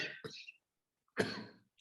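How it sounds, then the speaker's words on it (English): Two short coughs separated by a pause, close and fairly loud, with a brief throat sound before them. "This even I have a little cough during this season"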